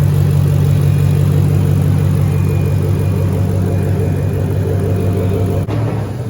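Shelby GT500 engine running with a new Gates Green HD belt, a loud steady close-up rumble and whir with no belt squeal, alone without talk.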